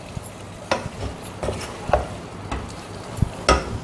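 A spoon stirs bitter gourd sambar masala in a pan with soft scraping strokes, several distinct stirs at an uneven rhythm over a faint sizzle, close and fairly quiet, no voices.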